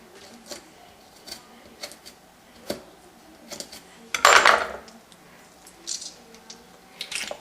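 A knife works around raw chicken legs to shape lollipop drumsticks, making sparse light clicks and taps against a board, with one louder, longer scrape midway and quiet gaps between.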